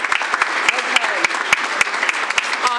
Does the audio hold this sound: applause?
yes